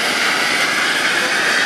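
An RC model bomber airplane taxis out, its small engine giving a steady, loud, high-pitched buzzing whine that holds constant throughout the short stretch, with no talking over it.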